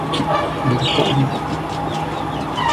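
Brahma chickens clucking in a coop, a low continuous murmur of soft clucks and faint chirps with no clear voices over it.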